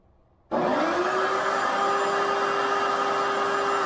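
A Porter Cable sander switches on abruptly after near silence and runs at a steady loud whine against a textured ceiling, with a constant shop-vac-like roar beneath and no talk.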